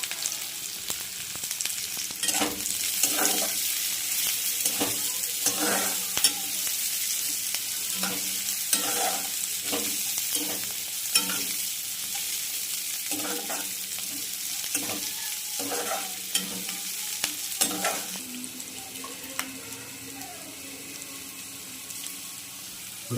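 Chilli chicken fries in a pan while being stirred: a continuous sizzle broken by repeated scraping strokes of a spatula at an irregular rhythm, close and fairly loud, with no voices.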